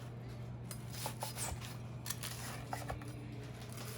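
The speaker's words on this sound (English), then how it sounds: "And we're gonna cut our pita." Pita bread sliced during preparation of a hummus lunch platter in a home kitchen: a few soft, scratchy cutting strokes, close and quiet, over a steady low hum.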